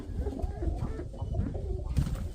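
Low, throaty cooing of Mykolaiv pigeons murmurs continuously amid outdoor rustle and light background noise, fairly close.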